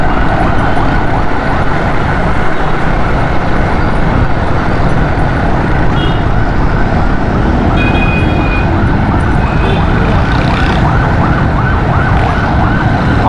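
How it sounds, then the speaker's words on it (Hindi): An ambulance siren wails steadily from behind in dense traffic, loud and continuous over the drone of a motorcycle and surrounding road noise, with no talk. "पीछे एम्बुलेंस आ रही है, उसको रास्ता देना पड़ेगा ना।"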